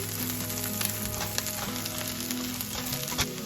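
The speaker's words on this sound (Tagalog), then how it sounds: "igisa natin, haluin natin ng bahagya" Onion and garlic sauté in a pan for a chicken curry, giving a dense, continuous close sizzle with light stirring touches and no voices.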